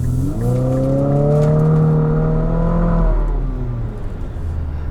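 A 2022 Infiniti QX50 accelerates hard on freshly paved road, its engine note climbing loudly and steadily in pitch for about three seconds before easing off into road and cabin noise.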